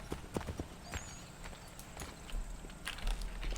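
Video game horse hooves in Assassin's Creed III clip-clop at a walking pace, close and fairly quiet, with faint background noise and a brief whinny-like tone.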